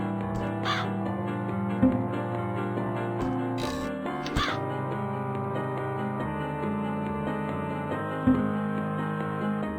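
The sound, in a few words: crow cawing in the video game Gretel and Hansel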